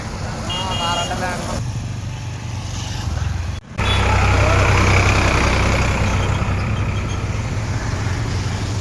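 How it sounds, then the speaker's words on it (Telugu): Steady busy road traffic beside a petrol station on a bend at Eidgah Nagar, with engines and passing vehicles rumbling continuously. It sounds fairly loud and close, and a voice talks over the traffic. "రద్దీగా తిరుగుతున్న వాహనాలు మరియు పెట్రోల్ కోసం వచ్చి పోతున్న వాహనదారులు"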